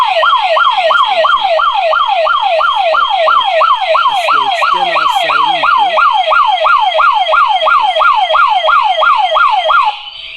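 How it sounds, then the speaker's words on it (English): The external siren of a smart home alarm system wails loudly and close by in rapid, repeating up-sweeping whoops for about ten seconds, then cuts off. "That's the external siren there with the light strobe."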